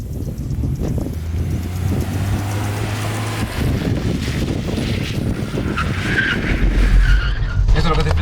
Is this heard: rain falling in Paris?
no